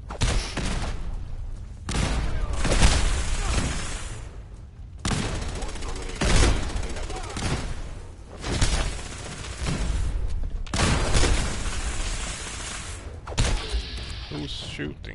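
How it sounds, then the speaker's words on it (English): Battle gunfire in Fallout 4 at Bunker Hill comes in repeated loud bursts of shots and thuds, separated by short lulls, with people talking between and over the volleys. "Who's shooting?"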